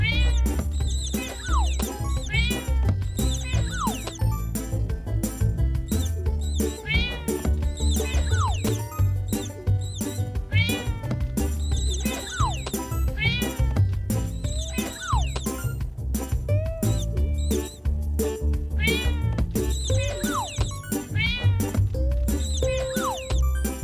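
Kittens meowing repeatedly in a children's farm animals game, their cries looping over a constant, loud bed of cheerful game music with jingly tones throughout.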